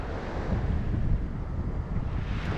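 Strong gusty wind on a beach roars and buffets the microphone in a constant, heavy rumble, with no voices.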